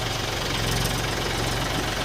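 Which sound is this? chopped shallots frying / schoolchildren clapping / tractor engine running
tractor engine running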